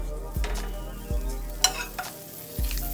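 Butter melts in a frying pan before eggs go in, a soft steady sizzle with a few low knocks and a sharp scrape or clink, close by and without talk.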